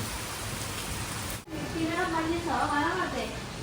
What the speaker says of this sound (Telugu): ఇంత వర్షం పడుతుంది